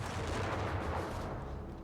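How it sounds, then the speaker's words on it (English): Battlefield explosions and gunfire in the WWII strategy game Company of Heroes 3, a dense continuous rumble of distant blasts and shots during a 2v2 match, steady and loud with no voices. "I'm hearing explosions now."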